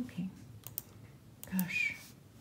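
Quiet clicking on a computer keyboard comes in a few scattered bursts, close and soft, during a calm algebra lesson.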